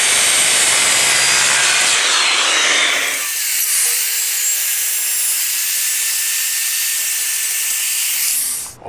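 A hand saw cuts notches in plywood for a sacrificial cutting base, producing a close, loud, continuous rasping that shifts tone partway through and trails off at the end.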